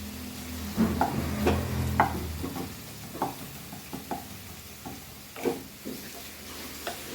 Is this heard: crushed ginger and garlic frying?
yes